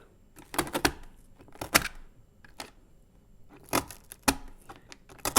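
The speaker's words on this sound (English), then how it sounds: "So I make some little cuts along the tape." Scissors snip small cuts along tape stuck on cardboard, giving sharp, close clicks that come in quick clusters separated by short gaps of quiet.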